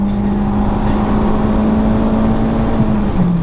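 A Renault Clio 2 RS engine is held at high revs near 7700 rpm, producing a loud, close, sustained drone with little variation.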